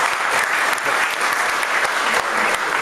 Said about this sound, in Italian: Facciamo un applauso a questo gruppo di giovani